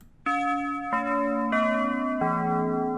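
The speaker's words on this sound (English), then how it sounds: "The ending bell rings without Don Julio finding her" Synthesized school ending bell from a video game, a series of four clear sustained chime tones stepping downward in pitch, each ringing over the next, loud and alone with no talk.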